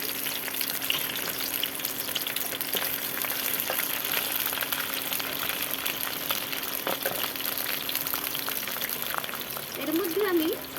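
Cut okra fries in hot oil for dahi bhindi, a continuous close sizzle with scattered crackles and occasional stirring scrapes, a voice speaking over it.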